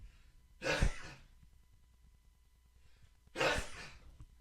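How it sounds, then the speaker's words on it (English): Two short, sharp sneezes, the first near the start and the second a few seconds later, each a sudden burst of breathy noise in a quiet room. "I'm not pestering God for all these sneezes."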